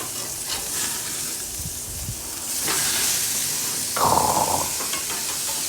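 A steak sizzles in a hot pan with onions, a constant close crackling hiss that swells louder partway through with a brief stir or clatter, no talking.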